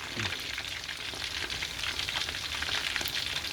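Chicken frying in palm oil gives a dense, steady sizzle with crackling pops, close and continuous throughout.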